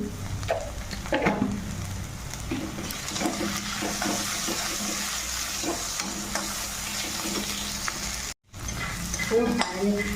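Onion filling with a little sugar fries in a pan for stuffed bitter gourd, giving a steady close sizzle broken by scraping stirs and light clinks of a spatula on metal, with no talk.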